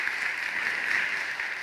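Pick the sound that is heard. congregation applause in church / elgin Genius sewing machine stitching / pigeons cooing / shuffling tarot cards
congregation applause in church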